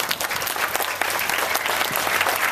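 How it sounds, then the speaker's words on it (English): Steady, dense applause from a keynote audience fills the room, a sustained wash of many hands clapping with no voices. "A round of applause for Leticia."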